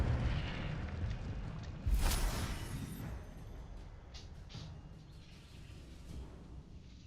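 A fiery Incendio spell blast in Hogwarts Legacy erupts in a single loud burst near two seconds, then trails off into a rumbling, crackling hiss under steady game ambience.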